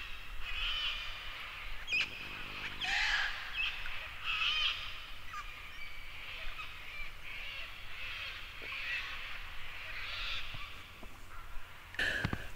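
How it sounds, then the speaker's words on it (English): Several species of forest birds give alarm calls together in the distance in Barmah Forest on the Murray River, harsh chirps and caws overlapping against a steady background of forest noise. "It's interesting listening for the bird alarm calls, which invariably are a number of species all going ballistic at the same time."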